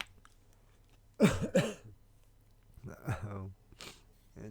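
A person coughs nearby in a sharp double burst, with a voice speaking a moment later.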